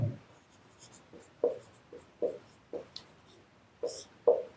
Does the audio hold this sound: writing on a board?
yes